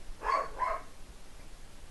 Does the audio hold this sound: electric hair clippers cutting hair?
no